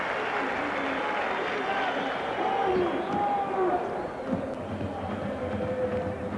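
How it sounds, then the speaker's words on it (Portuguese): A stadium crowd at a Sporting versus Inter Champions League match whistles and applauds in a broad distant roar, with scattered whistle tones rising above it while a commentator talks over the top. "Assobios e aplausos."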